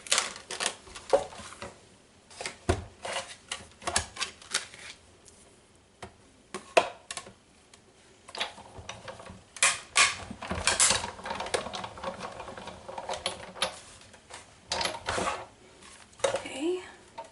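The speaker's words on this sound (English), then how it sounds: "I'll run that through my Sizzix" A Sizzix die-cutting machine cranks paper through for a gift box project, giving a run of irregular mechanical clicks and ratcheting rattles, close and fairly loud, over quiet room tone.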